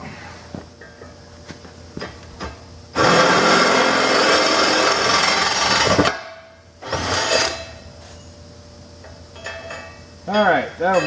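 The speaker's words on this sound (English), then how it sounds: "now we gotta drill it out bigger." A power drill enlarging a center-punched hole on a trail Jeep whirs loudly for about three seconds, then a short second burst, with clanks and light handling noises before and after.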